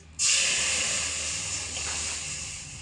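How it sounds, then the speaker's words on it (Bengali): Milk poured into a hot wok meets the metal with a sudden loud steam hiss that holds strongly and then slowly eases over a few seconds. "একই কড়াইয়ের মধ্যে দিয়ে দেবো গুলে রাখা দুধ"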